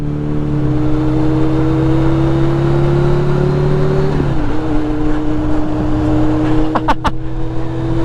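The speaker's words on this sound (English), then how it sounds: "that Duramax is fucking loud" A loud Duramax diesel truck engine drones steadily nearby, its pitch shifting partway through, with a few sharp clicks near the end.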